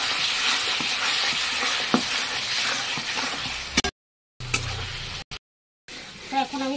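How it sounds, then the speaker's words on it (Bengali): Soy chunks sautéing with yogurt and spices in a pan, a steady close sizzle and frying hiss with scattered scraping stirs, interrupted by brief silent cuts and a few clinks near the end. "দই দিয়ে ভালো করে এটা কষিয়ে নেবে।"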